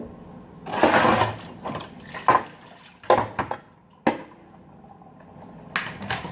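Water from a sink tap splashes into a container in irregular bursts, loud gushes broken by short pauses and small clinks, close by and without talk.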